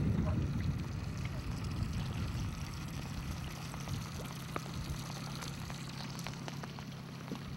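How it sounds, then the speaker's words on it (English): An outboard boat motor idles on open water while fishing for walleye and pike, a steady low rumble running throughout beneath water lapping and wind noise. "I'll kill this motor."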